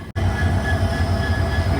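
A train hauled by two diesel locomotives rumbles past close by, a loud continuous low drone with rolling wheel noise after a brief dropout.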